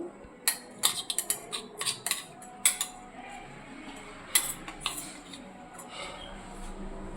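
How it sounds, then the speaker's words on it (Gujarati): Pounded garlic and chili paste being scraped from a mortar into a bowl: a series of sharp clinks and scrapes of metal on stoneware, irregular and close, with quieter rustling between strikes. "હવે આપણે આના બાઉલમાં કાઢી લઈશું"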